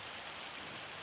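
Hail pelting down in the Farming Simulator 25 video game, a dense, steady hiss of ice striking surfaces that fills the short stretch evenly and loudly with no pauses.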